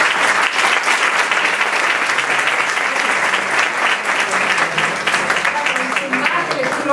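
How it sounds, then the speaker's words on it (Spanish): An audience applauding at a talk, dense sustained clapping that stays loud and even throughout, with no speech over it. "yo quisiera darle de nuevo un aplauso a esta Junta Directiva"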